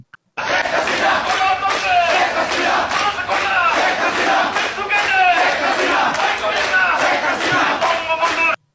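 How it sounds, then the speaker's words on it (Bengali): A large crowd of Awami League supporters chants Sheikh Hasina slogans in Bangladesh, rhythmic shouted call-and-response with repeated bursts. The chanting is loud and dense and continues almost without pause for several seconds. "শেখ হাসিনা বলে স্লোগান দিতেছে"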